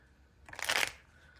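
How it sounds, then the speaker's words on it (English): A short, crisp riffle of cards being shuffled, one quick burst close to the mic against a quiet background. "I will do another shuffle here."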